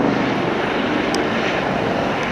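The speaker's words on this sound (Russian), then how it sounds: "Вертолет снижается, вертолет скорой помощи." An ambulance helicopter flying over Vienna, Austria and descending toward a rescue scene, a loud continuous rotor and engine roar filling the air with no voices over it.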